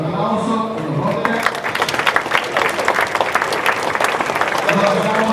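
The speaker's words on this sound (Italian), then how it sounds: "E allora facciamo l'applauso, per favore." Crowd applause at the inauguration of the 29th Corpus Domini flower-carpet festival in San Pier Niceto, Sicily, dense clapping from many people swelling after a moment of talk and fading into voices at the end.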